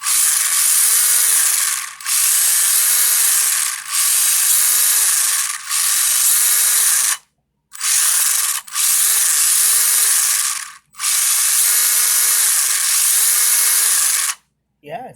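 A Traxxas Slash 1:16 RC car with a cheap brushless motor upgrade, running while held off the ground: a loud high whirring whine in repeated bursts, cutting out briefly between runs.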